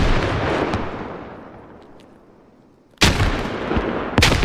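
A booming in-game frag grenade blast opens with a long rumbling decay that fades almost to silence, followed by two more sharp explosive cracks close together near the end, during a competitive 6v6 shooter match.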